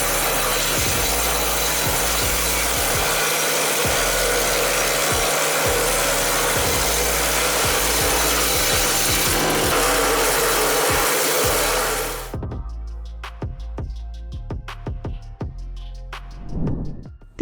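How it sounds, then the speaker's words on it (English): A wood chipper shreds wood with a loud, continuous grinding roar broken by rhythmic heavy chunks for about twelve seconds, then drops away to scattered knocks, clatter and short bursts of machinery. "This wood chipper devours wood so quickly that the user must be very careful."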